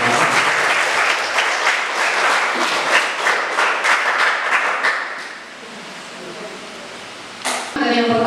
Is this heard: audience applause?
yes